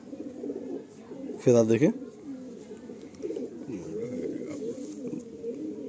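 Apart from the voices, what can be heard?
Madrasi pigeons cooing in a loft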